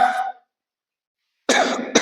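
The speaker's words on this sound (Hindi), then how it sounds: "थोड़ा मेरी तबीयत गड़बड़ है बेटा, है ना, खांसी आ जा रही है" Two or three short, harsh coughs separated by a second of silence, close and fairly loud.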